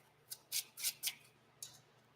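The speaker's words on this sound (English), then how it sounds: "I'm going to reshuffle again." A deck of cards for the Arkham Horror card game is reshuffled by hand, giving several crisp, brief riffling bursts up close with quiet pauses between them and no talk.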